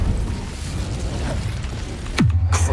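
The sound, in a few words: Incendio fire spell effect in the video game Hogwarts Legacy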